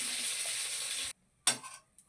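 Garlic frying in a pan for spinach chutney: a steady, bright sizzle that stops abruptly after about a second, then a second short sizzling burst, fading out.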